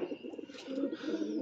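Soft, low cooing of wild pigeons repeats in a gentle rolling rhythm, close and fairly quiet.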